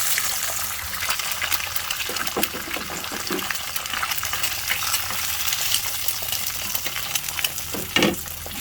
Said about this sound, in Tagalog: Prito muna po tayo ng egg.